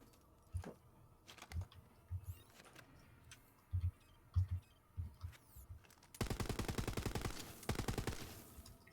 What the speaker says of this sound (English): So if there's full auto and burst fire.